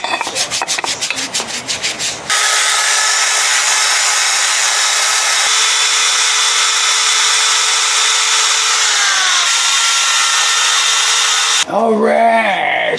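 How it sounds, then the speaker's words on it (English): Surfaces of an Evinrude 55 hp outboard engine being sanded for gaskets with a power sander, a loud steady whirring rasp running about nine seconds after short scraping strokes, then stopping. "I'm gonna sand it down a little bit, pretty it up a little bit."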